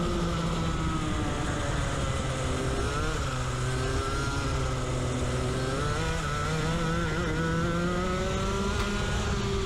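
A racing go-kart on a track accelerates hard, its small engine whining loudly and continuously close by, the pitch climbing and dipping as the throttle is held down through corners.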